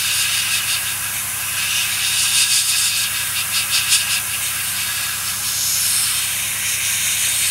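An airbrush sprays Tamiya XF1 flat black paint onto a 1/48 Spitfire Mk.1 model, a loud, close, steady hiss with slight pulsing as the trigger is worked, no voices.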